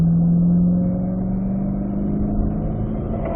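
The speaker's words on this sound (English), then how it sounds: "rolling on throttle, back up to fourth gear" Race car on a track pulls out of a corner under rising throttle, a close, loud engine tone that climbs steadily, with a brief dip near the start that fits a shift up into fourth gear.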